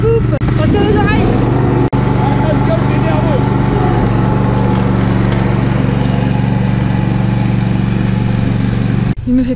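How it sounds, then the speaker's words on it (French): A brush-clearing mower engine runs loud and close at steady high revs while cutting through overgrown vegetation, a constant droning roar that fills the whole stretch, with a brief voice at the start. "Allez, contact, moteur. On accélère un petit peu et on va lancer la coupe."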